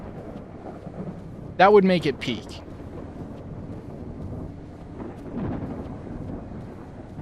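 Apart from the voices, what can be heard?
thunderstorm outside in the video game Escape the Backrooms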